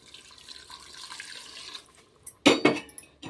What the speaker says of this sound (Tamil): ஓகே, தண்ணி வந்து சேர்த்தாச்சு.